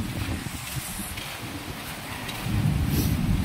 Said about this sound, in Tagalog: ang lakas ng hangin mga kabuhaghag